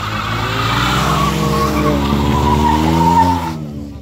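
Cars race and skid in a driving duel video game featuring a Polo Turbo, an Up TSI and a six-cylinder Opala, with loud continuous engine roar and tire squeal rising in pitch throughout before cutting off abruptly.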